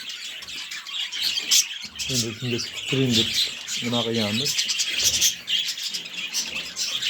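Lots of small birds chirp and twitter busily throughout, while someone talks over them up close.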